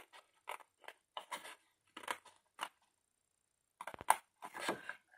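Scissors cut straight through a piece for a Santa's chimney advent-calendar craft. Short, crisp snips come in quick irregular bursts, close and fairly quiet, with brief silent gaps between them.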